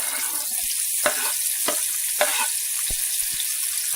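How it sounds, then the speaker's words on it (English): Onions sizzling in melted butter in a pan, a constant close hiss with a few sharp crackles and pops scattered through it. "I'm going to throw in my onions."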